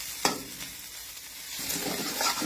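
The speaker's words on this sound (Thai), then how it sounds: "มาจะเร่งไฟหน่อยนะ ทอดให้เขาสุกเลย" Meat frying in a pan over raised heat, giving a continuous close sizzle with scattered pops and a few scraping stirs, no talking.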